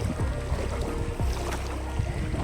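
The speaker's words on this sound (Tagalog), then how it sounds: "Lakas yung hangin." Strong wind buffeting the microphone outdoors during flooding, a loud continuous low roar with gusty rumbles that never lets up.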